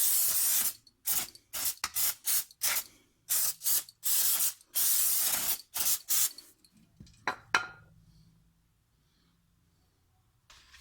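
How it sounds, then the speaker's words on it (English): Brake cleaner sprayed from an aerosol can onto the front brake rotor of a 2004 Ford Mustang, in about a dozen short, loud hissing bursts at an uneven rhythm, then fainter clicks and handling noises before near silence. "now you don't have to waste as much brake cleaner on here. So spray from the top down."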